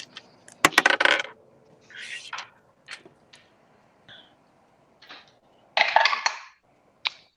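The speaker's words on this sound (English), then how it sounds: "Someone roll a 12-sided dice." A 12-sided die rolled on a table during a tabletop role-playing session, several sharp clattering bounces and clicks in quick bursts, close and crisp, then settling with a final tap.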